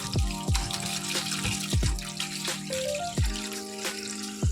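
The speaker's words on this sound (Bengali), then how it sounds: "এই দেখুন, শাকটাকে আমি এভাবে ধুয়ে নিচ্ছি, ধুয়ে ভিজিয়ে নিয়ে তারপর কেটে নেব।" Leafy greens are washed in water, with rhythmic splashes and sloshing every second or so over running, trickling water nearby.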